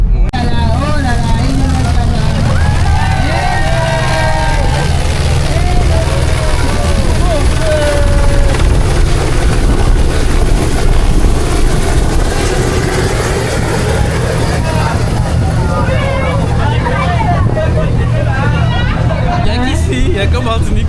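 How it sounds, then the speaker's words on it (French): A gendarmerie helicopter flies nearby in Martinique, its steady rotor and engine drone filling the background throughout while people chat and murmur over it. "Il y a qu'en Martinique que les gendarmes flex comme ça avec un hélicoptère."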